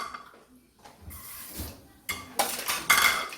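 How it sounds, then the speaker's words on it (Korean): Roasted onion and metal utensils clatter into a metal pot while making beef consommé, with a few clinks and scraping thuds growing louder toward the end. "냄비에다가 아까 구워낸 양파 넣으시고요"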